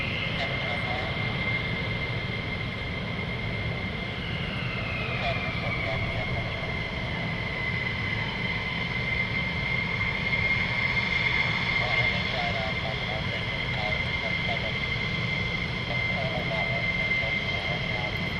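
USAF F-15 fighter jets pass over RAF Lakenheath, a sustained jet roar with a whining high tone that holds loud and steady throughout.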